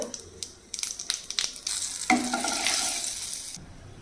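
Mustard seeds, cumin and dried red chillies dropped into hot frying oil while making tomato masala, bursting into a loud steady sizzle after a few scattered pops and clatters, then cutting off abruptly.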